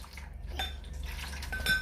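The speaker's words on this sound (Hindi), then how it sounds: "तो सबसे पहले इसमें आप पानी ले लें।" Water poured into a metal cooking pot in a home kitchen, a close clattering of metal and a trickling splash, with light clinks of the pot under the pour.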